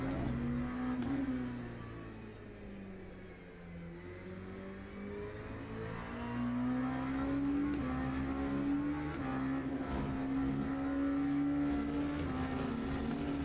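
A race car engine in the Le Mans Ultimate sim racing game drones steadily, its pitch climbing through gears with brief dips at shifts, continuous and fairly loud with no talking.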